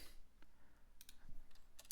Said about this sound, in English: I'm typing in my stuff.